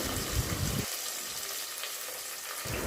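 Chopped onions frying in a pan for mutton curry give a steady, close sizzle with low stirring scrapes that drop away midway, then return near the end.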